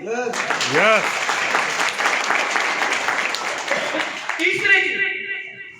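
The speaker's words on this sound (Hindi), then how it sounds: "ताली बजा के बताओ।" An audience at a seminar breaks into sustained clapping, dense and fairly loud, with a voice talking over the start and a few voices standing out near the end as the applause fades.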